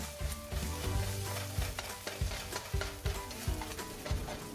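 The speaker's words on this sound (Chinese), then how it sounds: "再以中火翻炒一下鸡蛋黄" Egg yolk being stir-fried in oil in a wok over medium heat, with a steady soft sizzle broken by repeated scraping stir strokes of the spatula, close up and continuous.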